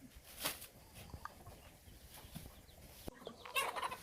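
Ducks and a large rooster feed on scattered corn at a farm, giving faint, intermittent clucks and squawks at a moderate distance, with a couple of sharper calls standing out near the start and end.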